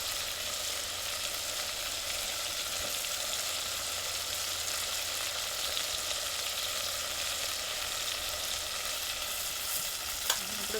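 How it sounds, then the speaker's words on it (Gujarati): Whole green onions fry in oil in a village kitchen for a winter dish, giving a steady, close hiss of sizzling that runs unbroken and evenly loud, with a faint stir or tap near the end. "મસ્ત તેલમાં તળાઈ જાય આ રીતે"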